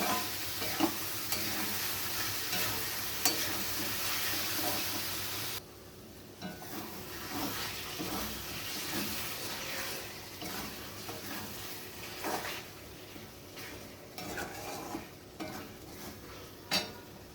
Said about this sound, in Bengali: এবার আবারও চিকেনের সঙ্গে ভালো করে কষিয়ে নেব